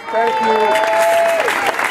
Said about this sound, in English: Our DJ, another round of applause.